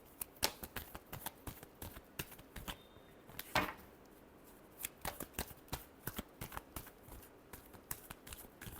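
Tarot cards being shuffled in a run of crisp riffling flicks and slaps, close and fairly loud, with one longer riffle burst near the middle; no talking.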